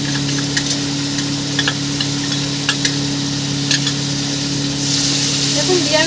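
A paste of chili, cumin and ginger hits hot oil for a Bengali tangra fish curry, sizzling under brief tapping clicks before a louder spitting hiss rises near the end.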